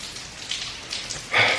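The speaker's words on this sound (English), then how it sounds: "it's raining like crazy outside" Heavy rain falls outside at night, a steady hiss of drops with a brief louder splash near the end, close and without talking.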